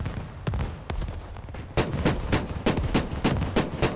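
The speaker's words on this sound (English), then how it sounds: "the rocket barrage is coming in" Rocket barrage striking hillsides in a military combat setting, heard as a rapid series of sharp, loud impacts and bursts, sparse at first and then a dense rolling volley, with no speech.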